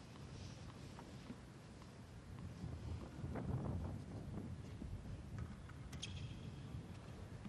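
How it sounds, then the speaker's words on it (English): Steady wind noise buffets the microphone at an outdoor professional tennis match in Brisbane, a low constant rumble with faint scattered crowd and court sounds, no talk. "Just waiting for the wind to settle down."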